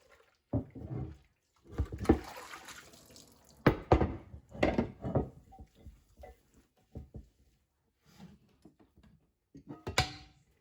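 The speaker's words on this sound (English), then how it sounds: "Wash our lid up." A crockpot lid is washed with a regular kitchen washcloth under a running faucet: intermittent bursts of splashing water and wiping, close and moderately loud, with pauses between.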